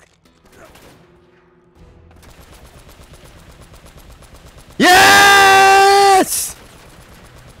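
A mounted gun in the video game Uncharted fires one loud, sustained burst of about a second and a half over quieter game ambience, with a brief shout from a player nearby.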